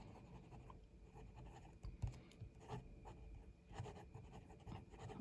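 A fountain pen with a steel Jowo medium nib, a Quokka Model 10, scratches and rubs softly across paper in a continuous close, quiet writing sound with small strokes and lifts.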